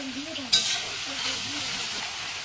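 Onion paste and sliced onions frying in oil with whole cumin, garam masala and bay leaf in a kadai, a soft continuous sizzle with a sharp scrape of stirring near the start, a voice speaking faintly underneath.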